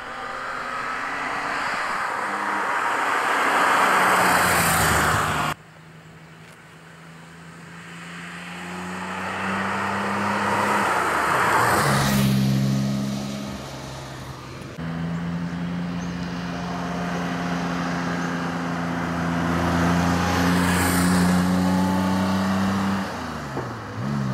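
A 1969 Porsche 911 2.0T engine revs and accelerates through several gear changes, loud and close, with rising and falling engine pitch, one sharp cut-off and wind rush mixed in, and no talking.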